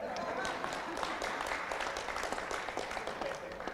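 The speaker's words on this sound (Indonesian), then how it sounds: "Boleh tepuk tangan ya?" An audience at a tourism talk show with stand-up comedy claps and cheers, a busy crackle of many hands with livelier bursts, moderately loud and steady throughout.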